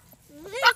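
A short, rising bully dog whimper, a thin whine sliding up in pitch and swelling briefly before cutting off, heard close and alone.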